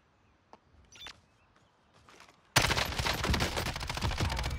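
RAM-7 assault rifle fire in Warzone: after a couple of quiet seconds with scattered faint clicks, a loud sustained burst of rapid automatic shots erupts and continues to the end, close and dense.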